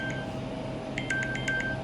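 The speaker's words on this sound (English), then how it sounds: "that is the sound of a nurse texting me about one of my patients" A phone's text message alert sounds as a quick run of about six short, bright electronic beeps over a steady room hum, close by and clear, with no one speaking.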